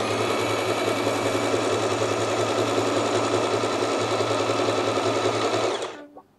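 A Butterfly JHK25A portable sewing machine stitches a zigzag pattern, giving a loud, steady, rapid mechanical whirr with a buzzing hum that runs unbroken for several seconds and then stops abruptly.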